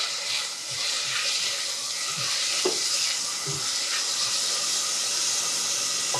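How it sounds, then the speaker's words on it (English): Grated garlic and onions sizzling loudly in a pan while a spatula stirs them, giving a constant close hiss broken by soft scrapes and taps. "grab my spatula and give those a stir"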